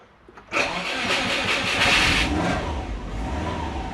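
A Subaru with a custom 4-inch turbo intake cranks and fires after a short quiet moment, then settles into a steady, loud idle with a slight lift in revs.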